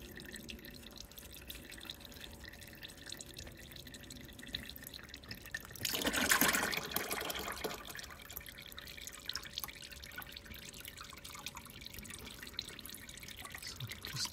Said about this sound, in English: Definitely gonna get oil coming out of here.